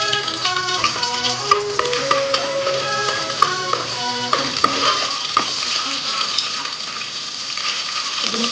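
Coarsely ground vegetable masala paste frying in a pan, a steady close sizzle with stirring scrapes and light clinks of a utensil against the pan, no voices.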